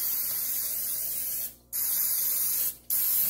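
Cooking spray hisses onto a 10-inch springform pan for a cheesecake in two sustained bursts, each cut by a brief pause, close and steady.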